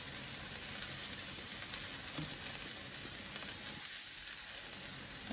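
Moringa leaves, about 1.5 pounds, drop into a hot pan with tomatoes, giving a steady loud sizzle and frying hiss that holds throughout with a brief dip near the end.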